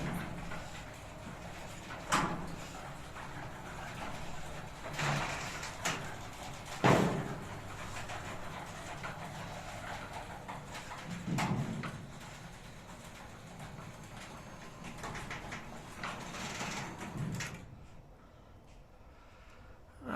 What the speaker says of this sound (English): The door is opening.